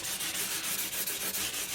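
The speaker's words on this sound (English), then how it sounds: "I'm going to sandpaper this all to give it a polish with 2000." Fine 2000-grit sandpaper rubbing over the top of a koa wood guitar, a steady continuous scratchy rasp with soft rhythmic strokes, close and alone.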